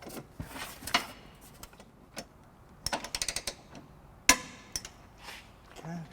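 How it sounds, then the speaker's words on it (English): Torque wrench fitted with a 19mm socket tightening trailer hitch bolts on a 2009 Scion xB, heard as scattered sharp metallic clicks and taps in small bursts, fairly close, with quiet gaps between. "we have our torque wrench here with our 19mm socket, and we're just going to go ahead and torque"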